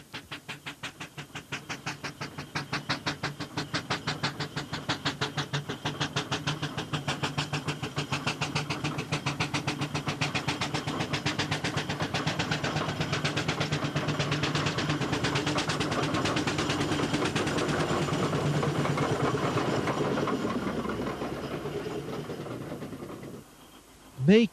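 Steam traction engines running at the Great Dorset Steam Fair rally in 1993, giving a steady, loud, rapid rhythmic chuffing that continues throughout and ends with a sudden sharp burst.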